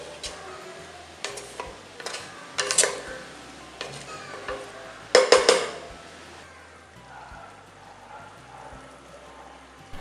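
Quail biryani masala, loosened with half a cup of water, being stirred in a pot, with scattered scraping and clinking knocks of a spoon against metal, a few louder bursts, and quiet sizzling between them.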